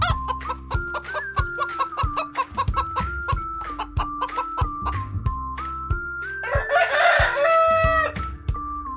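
Farm hen clucking amid a busy, close barnyard of fowl sounds, short repeated clucks over a steady backdrop, rising to a louder squawking burst near the end.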